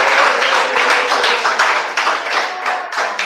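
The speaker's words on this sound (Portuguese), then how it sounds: "Recebemos ela com mais palmas." Congregation applauding during a church worship service, a steady wash of many hands clapping throughout, fairly loud and dense, with no talk over it.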